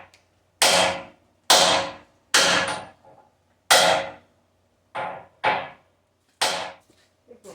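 Heavy hammer blows drive a cylinder bushing dry into the arm of a Cat 259B3 skid steer: about eight loud, ringing metallic strikes at an uneven pace, each one decaying briefly, with no voices.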